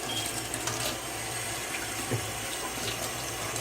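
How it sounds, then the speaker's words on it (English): A hand is rinsed under a running kitchen tap, giving a steady close rush and splatter of water with no pause and no talking. "rinse my hand off"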